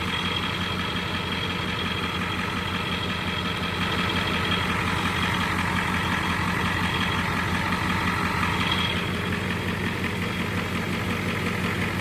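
A 7.3 IDI Powerstroke diesel truck engine idles steadily under an open hood, a constant close, loud rumble with a fine rattly clatter running through it, the sound holding even for the whole stretch.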